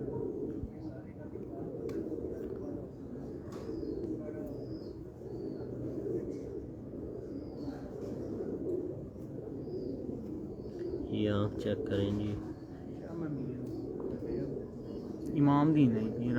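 Soft cooing from a ten-year-old racing pigeon kept on a rooftop loft, a low murmuring coo running under a voice, with a few faint chirps nearby.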